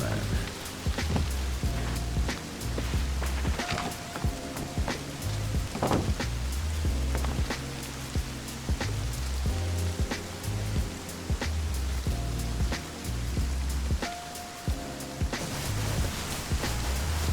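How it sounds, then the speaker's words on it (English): Rain falling in the survival game Rust, a steady broadband hiss with scattered drops and pattering, heard close and continuous throughout, with game music or ambient tones underneath. "Oh, it's raining."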